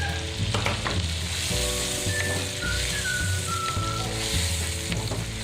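Shrimp sautéing in a pan crackle and sizzle loudly as Sprite is poured in, with steady frying hiss and some stirring clatter close by.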